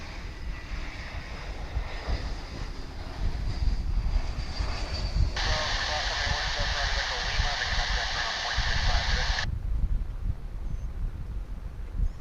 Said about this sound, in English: We're about to see the arrival of American Airlines Flight 2811 from Los Angeles, California.